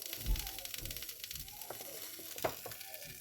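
Oil sizzles in a frying pan as meat is cooked, a steady broadband crackle with a low thump near the start and a sharp clatter or stir later, fairly quiet and continuous.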